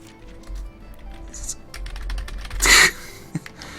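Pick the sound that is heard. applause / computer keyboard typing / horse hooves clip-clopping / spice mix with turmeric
computer keyboard typing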